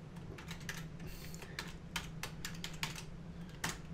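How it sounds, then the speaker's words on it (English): Keystrokes on a computer keyboard as a command is typed while flashing a RAID controller card, a steady run of close, crisp clicks with a faint hum underneath. "The next step here that we've got to do is we've got to type big B0"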